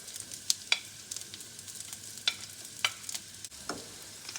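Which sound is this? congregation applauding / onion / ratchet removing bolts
onion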